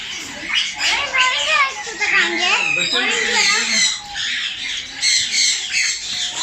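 Yellow ring-necked parrots in a close aviary squawk shrilly and constantly, a dense overlapping chorus that goes on throughout, with children's voices mixed in.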